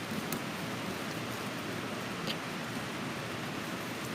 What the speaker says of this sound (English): this is a metal building. So when it rains, you can really hear it.